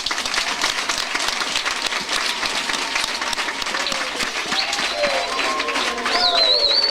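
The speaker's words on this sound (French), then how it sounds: "Est-ce que nous pouvons applaudir pour le chef de l'État?" An audience at a public gathering applauds the head of state, a dense, steady burst of clapping that holds at full strength throughout, with a voice calling out over it near the end.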